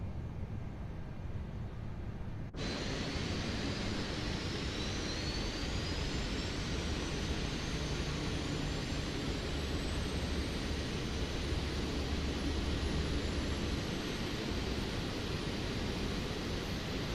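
Airbus A380 engines in a flight simulator game, a steady broadband jet roar heard from inside during flight, constant and even throughout with a faint rising whine, no speech.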